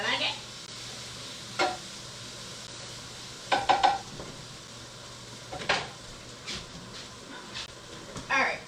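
Food browning in a pan is stirred, with a steady low sizzle and several sharp utensil scrapes and clinks against the pan spaced across the stretch.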